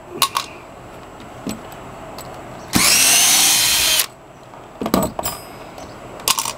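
A power drill backs deck screws with rounding T25 heads out of old decking: one loud, continuous whir of about a second and a half, framed by scattered metallic clicks and rattles of handled screws and tools.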